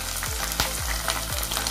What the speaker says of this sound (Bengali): এর মধ্যে আমি এবার দিয়ে দিচ্ছি 5 কোয়া রসুন, দিয়ে দিচ্ছি আমার নিয়ে নেওয়া কোরানো আদাটা আর 4টে কাঁচা লঙ্কা।